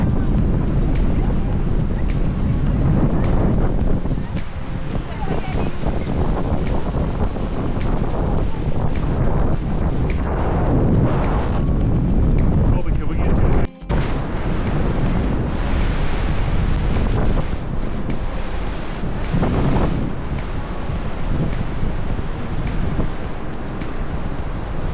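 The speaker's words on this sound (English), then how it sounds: "this waterfall generates a lot of spray as it drops off into that canyon" A waterfall in South Iceland plunging into a canyon in two drops, upper about 11 feet and lower about 36 feet, throwing heavy spray in strong wind; a loud, continuous broadband roar with wind buffeting the microphone, one brief dropout midway.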